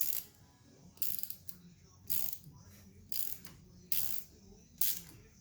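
A ratchet works a 10 mm bolt loose on the front fork of a 1980 Honda CB900 motorcycle, giving quiet rapid clicking bursts about once a second with faint gaps between strokes.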